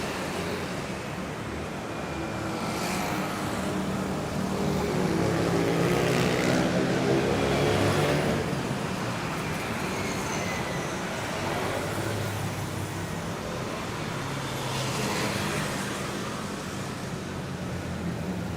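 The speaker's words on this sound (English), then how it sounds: "Motorcycles do make it noisy here in Bangkok." Motorcycles and scooters in Bangkok street traffic, a continuous engine drone with vehicles swelling louder as they pass close by and fading again.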